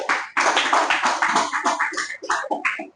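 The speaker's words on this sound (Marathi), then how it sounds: "चॅरिटी सर साठी जोरदार टाळ्या." Loud, sustained applause from an audience at a business-opportunity seminar, dense clapping running steadily for about three seconds before tapering off at the end.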